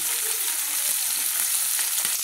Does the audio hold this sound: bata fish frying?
yes